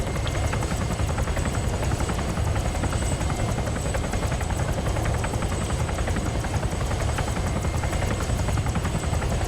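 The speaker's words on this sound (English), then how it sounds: "Love this chopper." Steady, loud rotor thrum and turbine whine from a helicopter cruising fast in Arma 3's Altis Life mode, continuous and alone without voices.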